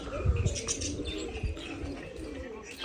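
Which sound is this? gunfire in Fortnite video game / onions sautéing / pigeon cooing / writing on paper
pigeon cooing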